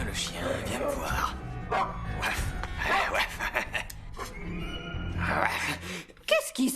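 A dog barks and yips in short bursts in the middle of a busy indoor scene, mixed in with excited voices talking over it at close range.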